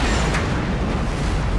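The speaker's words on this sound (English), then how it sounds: "it's a very loud explosion." A building blown up for an action film, a very loud, sustained, rumbling explosion roar that fills the whole moment with no break or quiet.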